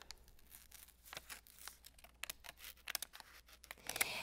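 Scissors snip through paper while cutting out eye shapes, a quick irregular run of close, faint crisp cuts and rustles with no talking.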